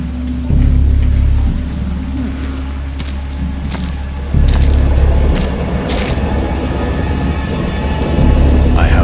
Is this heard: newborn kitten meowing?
no